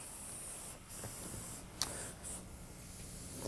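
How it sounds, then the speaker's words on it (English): An airbrush sprays light yellow paint onto a cake background, giving a soft continuous close hiss with slight pulses and a brief sharper burst midway. "I'm going to spray the background real light. Again, holding the airbrush back at a distance."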